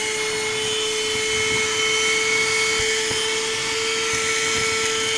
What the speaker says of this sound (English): See how quickly it picks up all that trash and dirt and stuff.